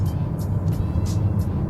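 Hyundai Santa Fe with all-wheel drive and H-track driving, a steady low engine and road rumble heard from inside the cabin, with faint brief hissing swells over it and no talking.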